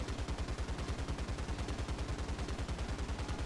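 Rapid, steady machine gun fire from an M4A2 76mm Sherman tank in War Thunder, a continuous loud stream of evenly spaced shots running without pause for several seconds.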